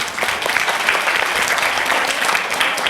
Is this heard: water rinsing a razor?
no